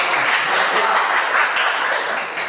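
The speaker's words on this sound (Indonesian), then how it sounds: "Nah, tepuk tangan dulu." A classroom of students claps their hands together, a loud, dense and continuous burst of clapping heard up close.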